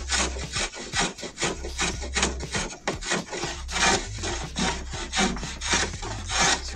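A wheelwright's drawknife is pulled repeatedly across wood, shaving off chips in quick rhythmic strokes, each a close, crisp rasping scrape, with no talk over it.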